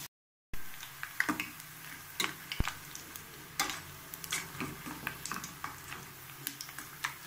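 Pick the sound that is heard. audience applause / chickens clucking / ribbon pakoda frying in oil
ribbon pakoda frying in oil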